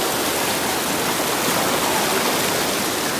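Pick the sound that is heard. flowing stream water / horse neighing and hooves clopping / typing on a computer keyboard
flowing stream water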